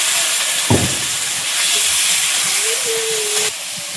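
Chopped onion and shrimp hit hot oil in a wok for a Sundarban-style stir-fry, giving a loud, steady hiss and sizzle after a brief clatter, with a faint thin tone near the end.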